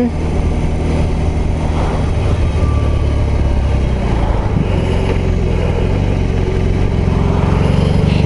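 A BMW R18 B bagger motorcycle running on the road, its big engine giving a loud, continuous low rumble with wind noise, heard close and steady throughout.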